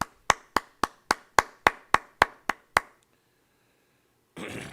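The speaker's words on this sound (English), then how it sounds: "Go ahead and clap it" A brotherhood class claps in tight unison, ten sharp loud claps at an even beat that stop abruptly, followed by silence and then a brief burst of noise.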